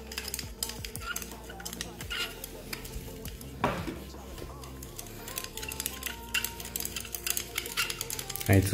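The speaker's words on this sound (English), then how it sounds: "I need to stir a little bit because the zinc sulfate is not entirely dissolved." Someone stirs a zinc sulfate and gelatin electrolyte mix in a container, with ongoing light scraping and clinking and a sharper swirl near the middle, while a voice talks over it.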